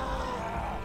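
Tank zombie in Left 4 Dead 2 letting out a short, loud, low guttural roar that fills the whole moment on its own.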